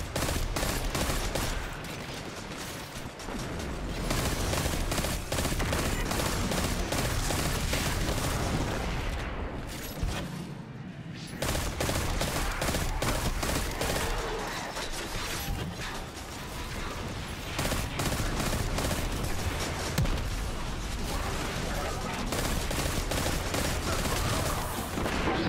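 Dense, loud gunfire and explosions in the Destiny 2 Forsaken campaign, with rapid repeated shots and booms that continue almost nonstop, briefly dropping off midway before the fighting resumes.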